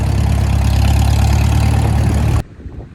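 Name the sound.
tractor engine idling while warming up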